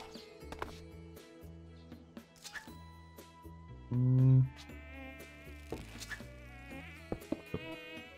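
Bees buzz in the Minecraft video game, a faint thin drone that runs on under soft clicks and game noises while no one talks.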